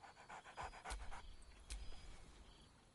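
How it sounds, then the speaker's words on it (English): A dog in the video game Baldur's Gate 3 pants in quick, rhythmic breaths, close up and fairly quiet, with a couple of sharper sniff-like bursts and no voices. "Scratch barks merrily in something like agreement."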